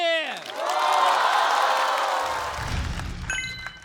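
A stand-up comedy show audience cheers and claps loudly as the next performer is welcomed, a dense swell of crowd noise and whoops following a descending stage sound, with faint talk underneath.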